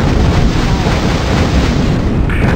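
Enemy ground fire in the Hind helicopter combat game, set in a Korea campaign: a loud, continuous roar of booming explosions and bursts that stays dense and unbroken throughout.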